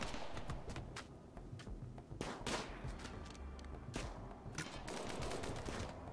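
Automated turrets firing at attacking tribespeople in the RimWorld colony-building game, a quiet rattle of rapid gunshot bursts and scattered louder cracks throughout, with no talk.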